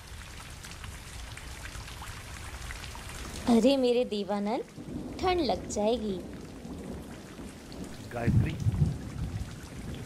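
Steady rain pours down outdoors in a continuous broadband wash, with voices talking over it in the middle and toward the end.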